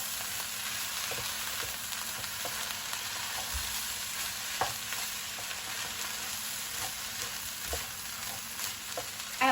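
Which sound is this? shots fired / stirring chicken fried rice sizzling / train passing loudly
stirring chicken fried rice sizzling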